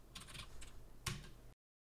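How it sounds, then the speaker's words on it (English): Quick keystrokes on a computer keyboard, a few soft clicks followed by a sharper tap, close and quiet, ending in a brief silence. "Try typing in just the function."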